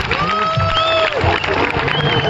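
An audience at a Tamil village panchayat pattimandram debate stage event claps and cheers to welcome the speaker Paris Raja. The crowd noise is steady and moderately loud, with an amplified voice and musical tones over it.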